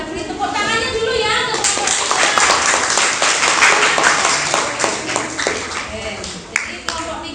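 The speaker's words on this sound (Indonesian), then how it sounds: "Tepuk tangannya dulu ya." A classroom group claps in a burst of applause that fades out over several seconds, with a voice talking over it.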